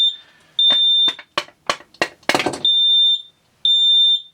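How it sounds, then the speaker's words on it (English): A smoke alarm shrills in loud, piercing beeps, some held and some clipped short, broken by a rapid burst of sharp knocks and clatter in the middle. "There goes my fire alarm."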